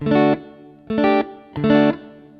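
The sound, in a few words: guitar reverb effect pedal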